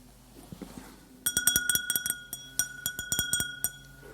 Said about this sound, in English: Let's take our Glencairn glass.